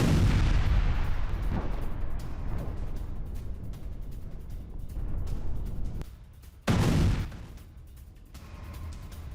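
Heavy explosions from FAB bombs dropped on an assault battalion base in war footage: a loud rumbling blast sequence at the start, then decaying rumble and a second sharp boom midway, with no talk.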